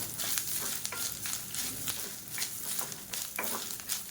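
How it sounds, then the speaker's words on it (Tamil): Chana dal and grated coconut stir-roasting in a hot pan, a steady dry sizzle broken by repeated scraping strokes of a spoon, close and continuous with no voices. "இப்போ இதில் ஒரு 1/4 கப் அளவுக்கு துருவன தேங்காய் சேர்த்துக்கலாம். சேர்த்துட்டு நல்லா ஒரு பரட்டி விட்டுக்கலாம்."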